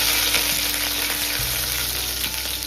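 Green chillies and curry leaves fry in hot oil for sabudana khichdi, a loud, continuous close-up sizzle with light stirring.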